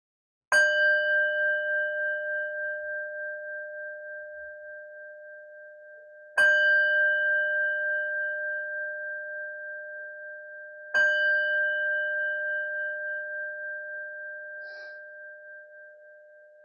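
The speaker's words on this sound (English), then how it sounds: "preparing to open your eyes as I ring the bell" Meditation bell struck three times, each clear ringing tone sustaining and slowly fading before the next strike, with near silence between rings.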